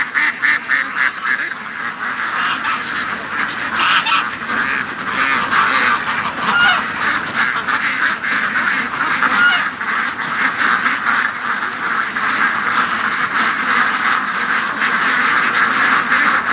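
A dense flock of ducks quacks loudly and continuously at close range, the honking calls overlapping in a steady chorus with no pauses.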